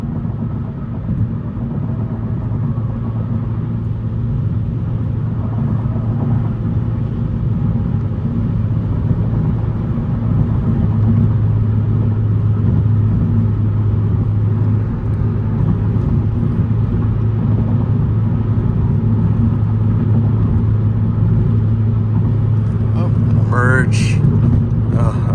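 A 10th-generation Honda Civic hatchback with a catless downpipe drives at night, its engine holding a steady, loud, droning low rumble throughout, with a brief chirpy sound near the end.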